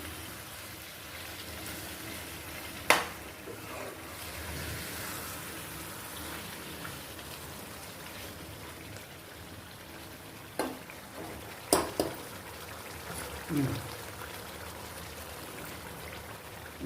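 Mint green chicken stirred and frying in a pan, a faint steady sizzle like light rain beneath a few sharp utensil knocks against the pan.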